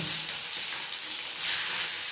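Onion fries in hot oil in a pan just used for frying eggs, a close, loud, continuous sizzle that swells briefly partway through.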